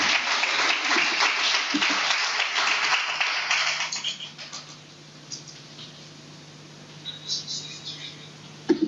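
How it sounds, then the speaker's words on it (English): A lecture audience claps warmly for a speaker walking to the podium; the applause is full for about four seconds, then thins into scattered claps and a faint room hum. "let's give him a round of applause as he makes his way to the podium"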